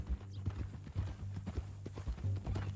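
Horse hooves clip-clop in a steady, close rhythm within the Red Dead Redemption 2 video game, the beats loud and continuous with no talk over them.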